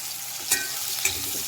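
Onion and chili frying in a pan, a steady soft sizzle broken by two light scrapes of a stirring spoon.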